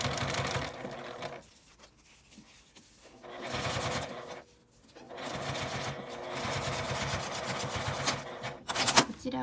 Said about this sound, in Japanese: 上の生地をちょっとたわませて押し込むような感じで縫っていきます。